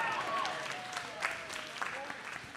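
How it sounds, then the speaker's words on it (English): An audience claps at a charity gala auction for the Crohn's & Colitis Foundation in Arizona, a moderate, scattered patter of applause beneath a voice talking over it. "You can applaud all you want."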